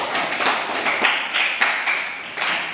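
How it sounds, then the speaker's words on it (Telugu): A classroom group claps for a student, giving sharp, scattered, uneven claps close by that come in loose bursts for a few seconds with no talking. "చాలా బాగా చెప్పింది. క్లాప్స్ కొట్టండి"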